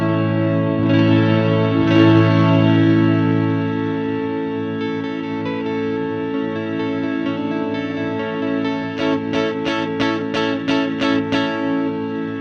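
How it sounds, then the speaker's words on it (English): An electric guitar played through an Old Blood Noise Endeavors Sunlight dynamic reverb pedal rings with long, lush sustained chords, then a quick run of rhythmic strums toward the end, all washed in shimmering reverb. "And I have my dynamic hold reverb pedal."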